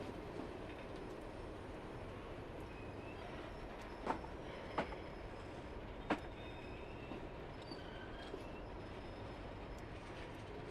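A freight train on the Heysham Power Station to Sellafield run in Train Simulator 2021 rolls under braking with a steady low rumble, faint wheel squeal and a few isolated clanks, heard alone at a soft level.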